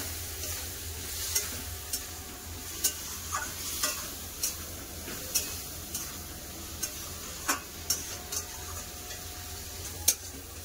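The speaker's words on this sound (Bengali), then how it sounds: "মশলার সাথে আলু ঝিঙাগুলো ভালো করে কষিয়ে নেব" Potato and ridge gourd pieces stirred and fried with spice paste, a continuous sizzle punctuated by regular sharp spatula taps against the pan, close and without talk.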